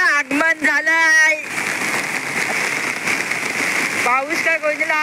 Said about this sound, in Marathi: पावसाचं आगमन झालंय.